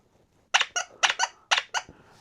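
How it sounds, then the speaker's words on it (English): Vintage Applause Squeak Squad rubber toy nose squeaked six times in three quick pairs, close and clear, bright high squeals with short gaps and no talk. "they had a line of honkers that actually had the honker nose squeak"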